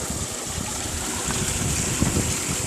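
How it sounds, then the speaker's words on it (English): A cheap 12 volt DC Harbor Freight bilge pump pushing water on a home-built trommel, a steady rushing, splashing wash of water with a low hum, close and continuous. "bilge pump."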